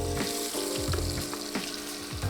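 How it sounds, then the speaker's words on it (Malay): Spice paste sautés in hot oil, sizzling loudly and continuously at close range, with brief scraping stirs breaking through the frying hiss. "Okey, kita panaskan minyak kita. Kemudian terus saja kita masukkan paste kita dah."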